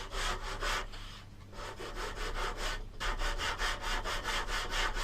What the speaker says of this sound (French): Et une finition à la cale à poncer.